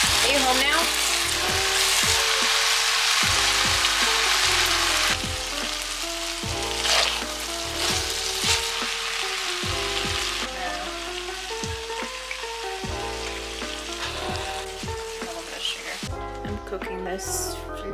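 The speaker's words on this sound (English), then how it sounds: "Cooking this Filipino Pinoy lumpia" Filipino lumpia fry in a pan with a steady bright sizzle, loud and close, while background music plays and occasional stirring or kitchen clatter cuts through.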